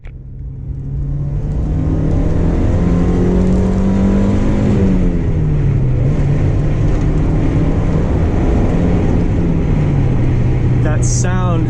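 A 1993 Mazda Miata NA engine revs while driving, a loud, continuous nearby drone that climbs, dips and climbs again through the gears, with a short squeak near the end.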